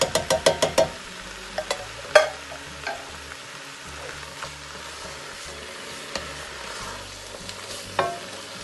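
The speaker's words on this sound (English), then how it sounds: "I'm going to add a tin of tomatoes," Chopped tomatoes from a tin go into a sizzling pan of vegan three-bean chilli, a run of quick knocks at the start, then a steady sizzle with occasional clanks and stirs, close and fairly loud.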